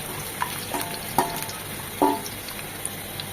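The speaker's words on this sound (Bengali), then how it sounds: "আলুটাকে এই তেলে 2 মিনিট ভেজে নেব।" Potatoes fry in oil for a shajne data and bele fish chorchori, producing a continuous close sizzle with a few scraping and clinking stirs against the pan.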